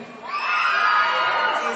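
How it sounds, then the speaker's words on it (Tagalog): A pageant audience in Bohol breaks into loud shouting and cheering for a contestant named Jerine, a sudden swell of many voices with high whoops that holds for over a second. "Bakit hindi natin sigawan si Jerine?"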